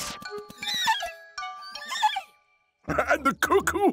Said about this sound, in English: And the cuckoo sounds like Dapple!